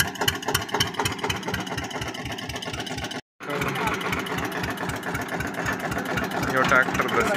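An Eicher tractor, stuck and bogged down, runs with a loud, rhythmic mid-pitched engine throb that cuts out briefly and then resumes, rising slightly toward the end.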